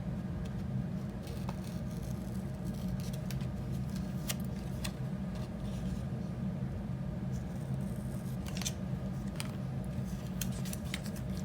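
Scissors cut steadily through paper to trim out a hexagon shape, a continuous dense snipping and rustling texture that runs the whole time at moderate level, with no talking.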